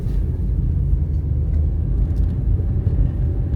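A car descending Oak Shore Road from Wellington Heights, heard from inside as a steady, loud low road rumble and engine drone with no talk.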